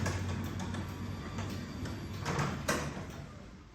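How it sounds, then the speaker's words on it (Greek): A motorized Hörmann industrial glazed door closing, a steady mechanical rumble and whir running throughout with light clicks and a thump near the end. "Η πόρτα κατεβαίνει."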